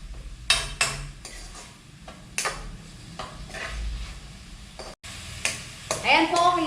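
Vegetables for pancit canton are stirred in a pan, with intermittent scraping strokes and clanks of the utensil, a faint sizzle underneath, and a brief gap near the end.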